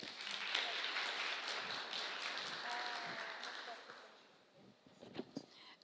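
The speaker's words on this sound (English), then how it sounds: "Applause for her." Audience applause at the ARIR 2023 gala in Romania, welcoming a European Issuers secretary general, a broad steady clapping wash that fades toward the end with a few scattered claps, a voice faintly present underneath.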